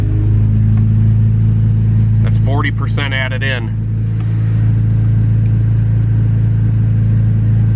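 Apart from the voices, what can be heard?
car engine idling on a dyno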